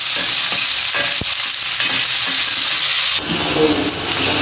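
Sliced onions for Bombay chutney sauté in hot oil, a loud close sizzle with a few spatula scrapes and a brief louder stir near the end, no voices.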